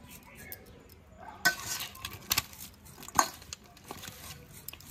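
Pabda fish being hand-mixed with turmeric, salt and raw oil in a bowl, giving soft squelchy stirring with a few sharp clinks of dishes, close and fairly quiet.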